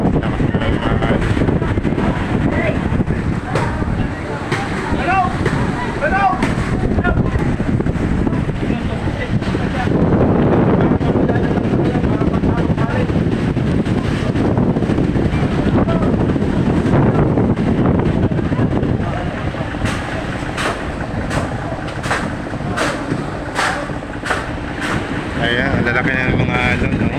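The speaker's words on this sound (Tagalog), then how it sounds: "napakalakas na ng alon" Strong typhoon Enteng waves pound the shore at Bulan, Sorsogon, with roaring gusts of wind buffeting the microphone in a steady, loud wash of surf and wind noise across the whole stretch.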